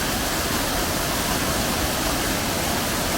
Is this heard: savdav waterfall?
yes